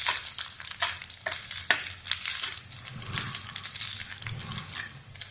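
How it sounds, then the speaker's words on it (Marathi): Ground coconut, coriander and garlic paste roasts in a pan for a village-style brinjal curry, giving a steady close sizzle with scraping stir strokes and a few sharp clatters, with no talk. "आपण हे वाटण खलबत्त्यात वाटून घेतलेलं खोबरं, कोथिंबीर आणि लसूण हे घालून भाजून घेऊ आपण"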